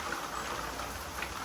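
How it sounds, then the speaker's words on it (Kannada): Rain falling outside a house, a dense steady patter of drops forming an even hiss with no gaps, heard alone at moderate level. "ಮಳೆ ಬರಾಕತ್ತದ"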